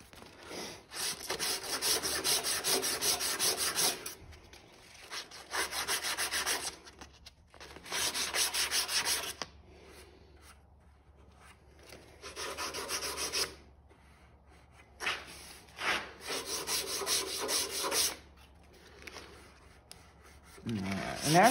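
Wood being hand-sanded with sandpaper, heard as long rough back-and-forth rubbing strokes in bursts with short pauses between them, close and fairly loud.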